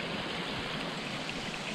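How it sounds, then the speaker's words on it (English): A river on the Appalachian Trail in the Smoky Mountains, swollen after heavy rain, rushes in a constant broadband hiss, close and even, with no voices. "First river I've seen on the trail other than the trickle."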